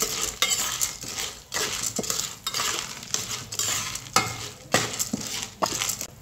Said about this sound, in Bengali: এখন ভুট্টার দানাগুলোকে তেলের সাথে কিছুক্ষণ নেড়েচেড়ে ভেজে নেব।